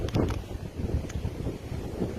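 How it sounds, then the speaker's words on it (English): Strong wind on the South Downs buffets the microphone in low, rumbling gusts, loud and close, rising and falling unevenly throughout with no talk. "it's getting windier."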